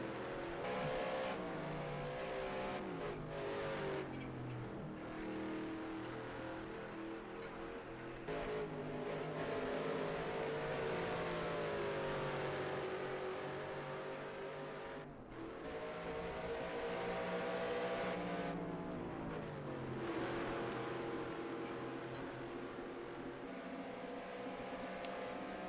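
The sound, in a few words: race cars on track in a sim racing video game at Road America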